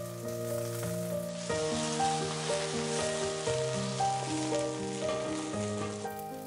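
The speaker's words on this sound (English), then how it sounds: "Saute for a couple of minutes. Allow some time for the veggies to sear and get some color." Red onions and broccolini sauté and sear in hot oil with a steady, close sizzle that runs throughout, partly masked by louder tonal background music.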